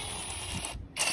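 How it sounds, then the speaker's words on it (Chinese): A wrench turning the screw of a bearing puller to draw out a bearing, making a steady, close mechanical whirr that cuts out briefly and then resumes. "给它旋上，用手动扳手和电动扳手都可以"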